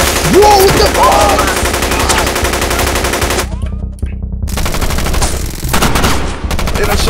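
Rapid automatic gunfire in the Roblox video game, loud and close, bursts pounding almost continuously with brief gaps, over game audio.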